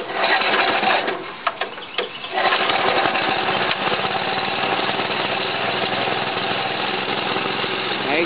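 A John Deere 60 tractor engine turns over with a few uneven coughs and sputters, then settles into a loud, steady, close-up running chug with no voices.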